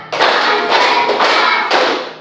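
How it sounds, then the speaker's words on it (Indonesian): Classroom of students clapping hands together in counted bursts, about four loud claps spaced roughly half a second apart, each followed by brief ringing decay, with no talking over them. "Tepuk 1, tepuk 2, tepuk 3, tepuk 4,"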